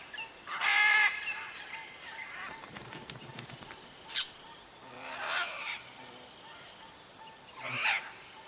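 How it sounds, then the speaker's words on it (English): Crimson-fronted parakeets call from an almendro tree in short harsh bursts at the start, middle and end, fairly close, over a steady backdrop of insect and forest hum with a sharp single chirp between. "A pair of crimson-fronted parakeets are setting up home next door to the macaws."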